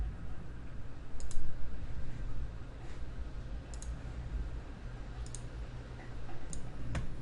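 A computer mouse clicks a handful of times, sparse and light, over a steady low background hum while someone navigates a website.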